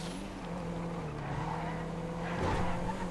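A small Panto hatchback races a Liberator and other 2014 cars in a GTA FiveM race, with steady engine drone, tire squeal and skidding throughout, swelling slightly near the end.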